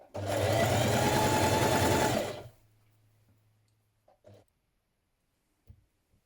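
A sewing machine stitches the front sleeve of a dress in one loud, close burst of fast running lasting about two seconds. It winds down into a low hum, followed by a few soft clicks.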